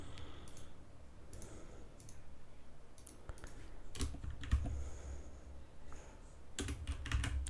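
Keys tapped on a computer keyboard to enter a number, a steady run of light clicks with a denser, louder burst near the end, close and with no talking.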